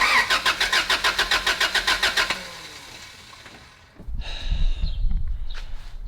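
A Honda Prelude engine cranks during a compression test after a valve adjustment, a fast rhythmic chug of about a dozen even pulses for two seconds, then it stops and low handling noises follow, loud and close.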